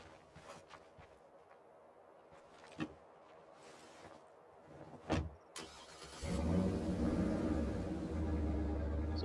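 A car driving in the video game State of Decay 2: a few scattered knocks and bumps, then a steady, loud engine drone rising in from about six seconds and holding to the end, with no talk.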